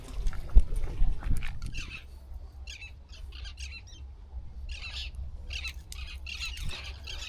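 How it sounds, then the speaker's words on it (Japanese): Birds squawk on a small uninhabited island, harsh scattered calls coming and going at a middle distance over a steady low rumble of wind or surf, with a thump and some handling noise near the start. "鳥が鳴いてますね"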